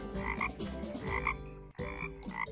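A frog croaking nearby in repeated loud, throaty calls with a brief pause before the calls resume, and no talking.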